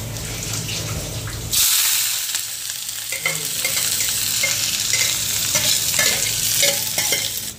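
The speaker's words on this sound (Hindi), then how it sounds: "तड़का लगाऊंगे जीरे में और प्याज में" Loud sizzling and crackling of cumin and onion hitting hot oil for tempering, a sudden burst after a quieter start, continuing steadily with some clinks.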